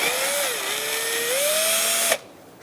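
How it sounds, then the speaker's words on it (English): A power drill with a Phillips bit removes bolts during a radiator replacement on a Hyundai Accent, whining steadily at close range, its pitch wavering as the load shifts, then it cuts off abruptly. "I'm gonna use a Phillips head and a drill"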